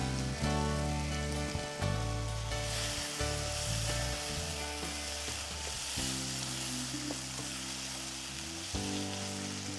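Spicy Guntur mirchi chicken sizzles and crackles steadily in a hot pan, a continuous bright hiss with occasional stirring scrapes, under loud background music.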